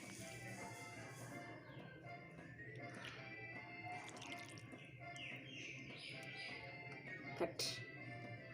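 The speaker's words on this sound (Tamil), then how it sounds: "நான் இப்போ வந்து இறால் ஃபுல்லாகவே கழுவி எடுத்துட்டேன்" Raw prawns being rinsed by hand in water, with faint splashing, dripping and a tap-like trickle running throughout at low level, plus a brief louder splash near the end.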